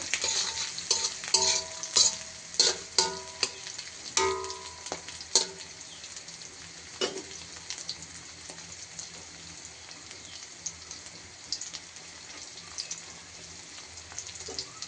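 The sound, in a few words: onion and chili frying in oil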